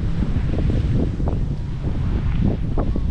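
Steady wind buffets the microphone at the seaside, with low rumbling surf from waves washing in under it throughout, and no voices.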